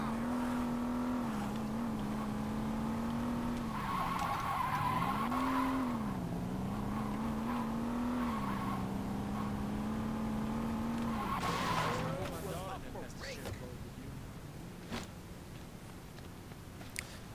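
Racing car in the Saints Row 2 video game roars with a steady engine drone, sliding into skids and tire squeals around the middle before the engine note drops and fades near the end.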